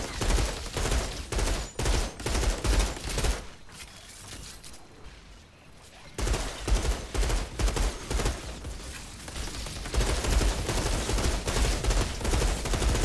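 Rapid automatic turret fire in the Outriders shooter, with loud sustained bursts of gunfire that drop out for a couple of seconds in the middle, then resume steadily through the end.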